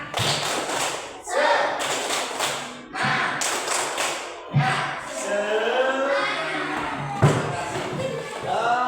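A school class claps out a rhythmic 'tepuk semangat' cheer, bursts of sharp group claps in patterned groups with brief pauses, mixed with children's voices chanting and talking between them.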